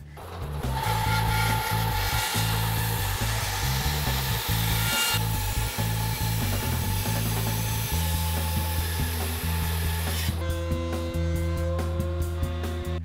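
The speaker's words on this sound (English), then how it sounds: "I'm gonna resaw off as much as I can and get this to rough width" A wood board being resawn to rough width on a power saw, a loud continuous whining cut with steady mechanical drone throughout, shifting pitch partway as the blade works through the timber.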